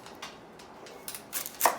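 Onions being diced with a knife on a cutting board for caramelizing, a few soft close taps building to sharper chops near the end, with no talking.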